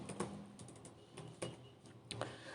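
Keystrokes on a computer keyboard while entering Python code, a series of quick, close clicks in an uneven rhythm with small clusters and pauses, heard alone without talk.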